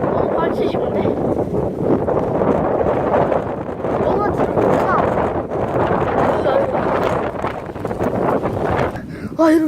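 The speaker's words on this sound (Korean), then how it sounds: "바람 너무 많이 불어." Strong gusts buffet the microphone outdoors in an apartment neighbourhood, a loud continuous low roar that swells and dips throughout, with a voice briefly audible near the end.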